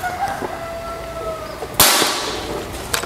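A single sharp report from an FX UX2 PCP air rifle charged to 2000 PSI, a sudden loud crack with a brief hiss-like tail, followed by a faint click, heard alone.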